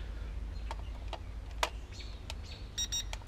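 Songbirds chirping outdoors, heard as scattered short, faint chirps and a brief trilled call near the end, set against a steady low background rumble.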